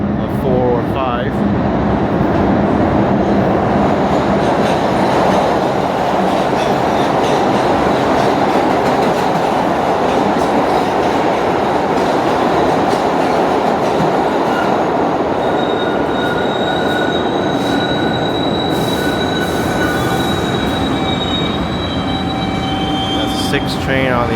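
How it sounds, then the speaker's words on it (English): A New York City subway express train on the 4 or 5 line roars into a station, a loud sustained rumble with clacking wheels and rising metallic squeals from the brakes and rails. "Sounds like an express train is coming, a 4 or 5."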